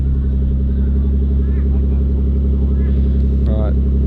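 Nissan Skyline R34 engine running on its first drive, a loud steady low rumble with dense layered harmonics throughout, brief voices faintly audible over the engine.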